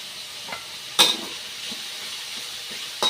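Pork stir-fries with chili and garlic in a pan, a continuous close sizzle broken by sharp spatula scrapes and clatters against the metal.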